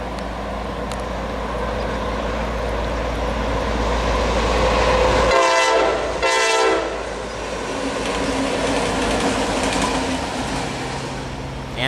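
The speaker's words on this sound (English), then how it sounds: "Here is a pair of SD40Es headed back west to shove another train up the difficult hill." A pair of SD40E diesel locomotives heads west near Altoona, Pennsylvania, with a steady heavy engine rumble and rolling rail noise, and two loud horn blasts sound midway.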